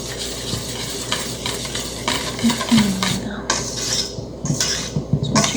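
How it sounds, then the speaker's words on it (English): Baking powder is stirred into chocolate rolled-cookie dough in a bowl, making repeated scraping and clinking strokes of a utensil against the sides, fairly close and loud, with no talking. "Stir that up a little bit."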